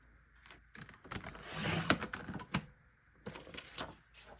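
Paper for a scrapbook layout being trimmed to a 1.5 inch strip with a cutter, giving a few close, crisp slicing and sliding scrapes with short pauses between them.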